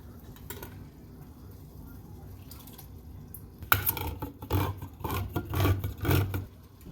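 Vegetable juice pours into a pot of chili, first a faint trickle, then a louder rushing, bubbling pour with clinks against the pot, all close and without speech.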